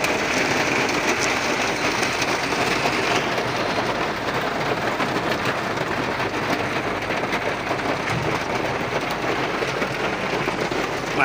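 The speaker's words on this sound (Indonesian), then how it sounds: "Hujan deras, angin." Heavy rain and wind at an outdoor scout jamboree camp, a steady broad roar and hiss that holds at an even level throughout, with no voices.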